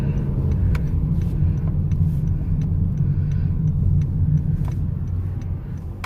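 Car interior while pulling out into morning traffic: a steady low engine and road rumble, fairly loud and constant, with small clicks and knocks over it and no talk.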